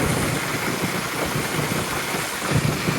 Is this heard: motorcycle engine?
yes